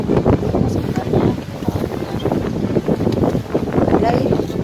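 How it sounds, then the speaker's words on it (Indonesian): Strong overnight wind storm on Mount Kerinci, loud gusty roaring buffeting the microphone continuously, with a voice talking through it. "Badai, angin yang kencang sekali dari tadi malam."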